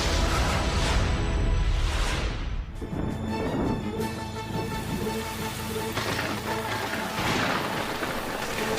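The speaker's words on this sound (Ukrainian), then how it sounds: "Гроза насувається. Зараз піде дощ." Heavy, dense rain with rumbling low whooshes like distant thunder, a loud continuous wash of cartoon thunderstorm noise without voices.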